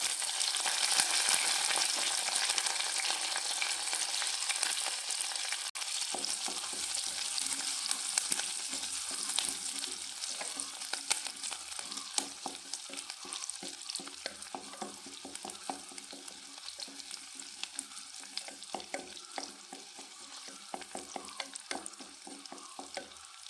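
Shallots, garlic and curry leaves hit hot oil in a pan with a loud burst of sizzling that settles into a steady crackle, with repeated clicks and scrapes of stirring and no speech.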